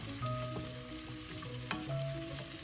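Corned beef sizzles steadily in a pan with garlic and onions for a Filipino ginisang dish, a close, continuous frying hiss with a single sharp scrape of stirring partway through.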